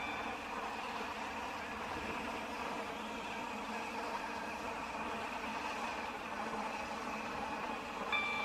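A train runs steadily in the railway game Stepford County Railway, heard from on board as a constant low rumble and hum with faint rattling, no speech over it.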